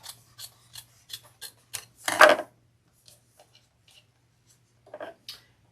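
Scissors trim through bag material in a series of short crisp snips, one longer heavy cut in the middle, then a few quieter snips, close and alone with no talk.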